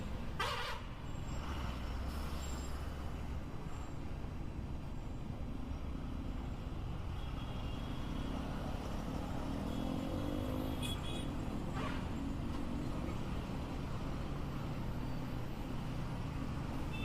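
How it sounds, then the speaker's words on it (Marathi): Heavy road traffic in Mumbai rumbles as a steady, continuous drone of car and truck engines, with a few brief horn-like tones and a faint hiss of air brakes. "भयंकर ट्रॅफिक आहे"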